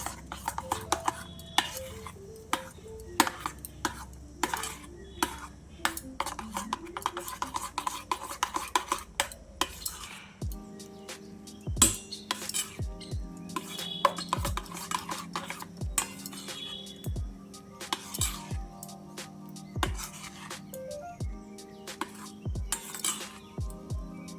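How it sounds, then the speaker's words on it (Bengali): Batter being mixed by hand in a mixer bowl, a long stretch of steady scraping and stirring with frequent light clinks of utensil against the bowl, close and moderately quiet, no voices. "এবারে এটাকে মিশিয়ে নিচ্ছি ভালো করে।"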